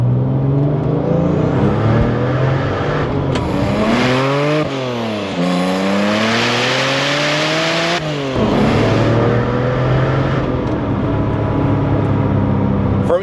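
A Porsche pulls hard in second gear with its exhaust valves closed, engine note climbing steadily through the revs, dropping briefly at a shift and then rising again, loud and continuous without any voices.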